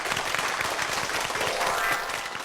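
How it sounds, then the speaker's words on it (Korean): A studio audience at a Korean TV talk show applauds in a dense, steady burst of many hands clapping at once, loud and close, holding level without anyone speaking over it. "열정 넘치는 그 시니어 여러분들을 위해서 다시 한번 박수 부탁합니다"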